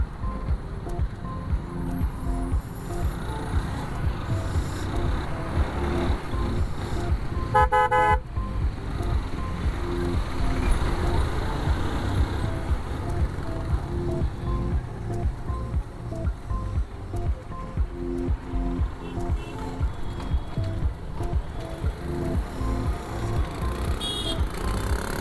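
Busy road traffic heard from a Yamaha R15 motorcycle ride, a constant engine and tyre rumble with a quick car horn toot near the middle.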